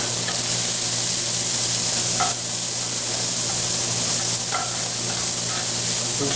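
Sweet onions frying in a hot pan, a loud steady close sizzle with a couple of brief stirring scrapes.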